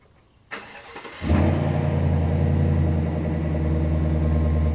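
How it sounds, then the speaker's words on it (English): A Chevy Silverado pickup starts by remote: a brief starter crank, then the engine catches and settles into a loud, steady idle close by. "Now let's show you what it does when you remote start it."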